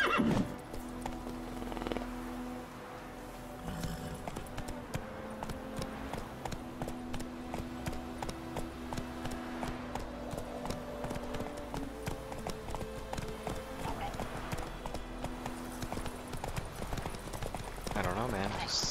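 A horse galloping in The Witcher 3, with rhythmic clip-clop hoofbeats running throughout and a whinny, while someone talks over the game sound.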